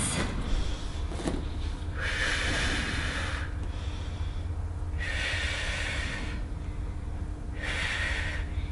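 Heavy breathing while holding a plank during an intense Pilates workout: three slow, deep breath cycles, each a loud, close, drawn-out rush of air spaced a few seconds apart, with no talking.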